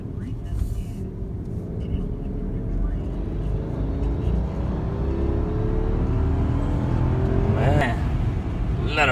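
A Rolls-Royce Ghost V12 car accelerating: a deep, steady engine rumble builds and rises in pitch as the car gathers speed, heard from inside, with people talking over it.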